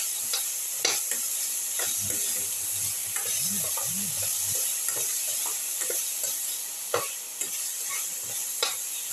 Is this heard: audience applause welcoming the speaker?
no